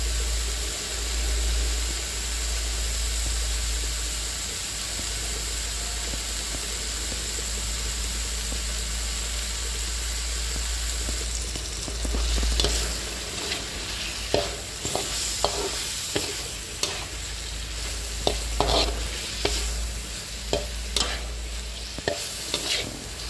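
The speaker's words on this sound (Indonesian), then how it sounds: "Kita aduk-aduk dan ditunggu sampai bumbunya tuh meresap ke dalam ikannya ya" Tuna stirred in sambal spice paste frying in a pan, with a steady sizzle throughout and scraping stir strokes growing busier and more frequent in the second half.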